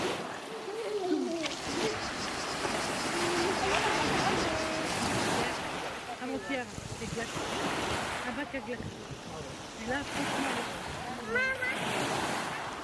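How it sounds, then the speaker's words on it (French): Sea waves wash in steadily at Carry-le-Rouet beach, a broad continuous surf hiss with wind across the microphone, close and fairly loud, while occasional voices are heard through it. "écouter le bruit des vagues"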